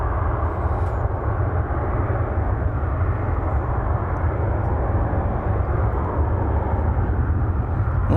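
A FedEx cargo jet takes off from DFW Airport, its engine roar a steady, loud broadband rumble with no break, heavy in the low end and continuous throughout.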